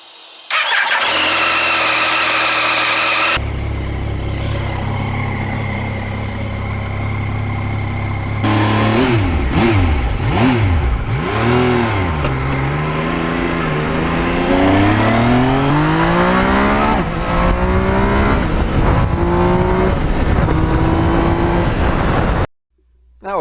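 A Yamaha MT-09 motorcycle engine starts, then revs up and climbs through the gears in loud, close rising sweeps with brief drops at each shift, cutting off suddenly near the end.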